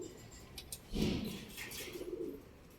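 Pigeons coo in soft, low throaty rolls, one fuller call standing out among faint ones, with scattered chirps in the background.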